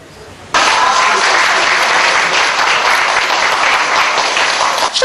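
Hundreds of devotees at a Taiwanese religious Pudu ceremony clap to welcome Premier Wu Den-yih, a sudden loud, dense burst of crowd applause that holds steady throughout, with faint voices mixed in.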